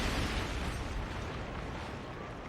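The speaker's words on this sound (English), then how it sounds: "blew up Spike's house" A house blowing up in a TV drama scene, a loud rumbling explosion that hits hard at the start and decays into a sustained roar of debris and low boom.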